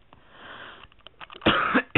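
A single harsh, breathy cough up close, preceded by faint sniffing and breathing sounds.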